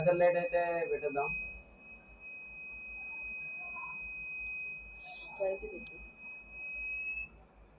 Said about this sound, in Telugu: ఎప్పుడైతే నేను స్విచ్ ఆన్ చేస్తానో మనకి బజర్ అయితే వస్తుంది.